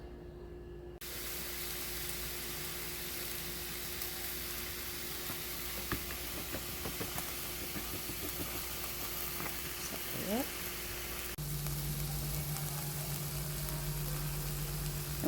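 Garlic frying in grapeseed oil with kale in a pan, a steady hiss of sizzling with faint clinks and a low hum.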